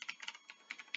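Rapid keystrokes on a computer keyboard, about a dozen crisp clicks in uneven bursts, close and fairly quiet with no talking.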